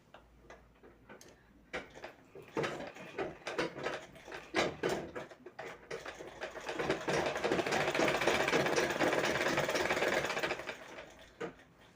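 A sewing machine stitches piping onto a blouse sleeve, its needle ticking in fast, even bursts that run into a longer steady whir, close and alone with no voices.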